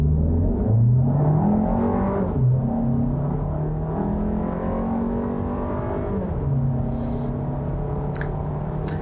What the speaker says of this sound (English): let's try another acceleration run from a stop here. I'm just gonna leave it in drive and just put my foot down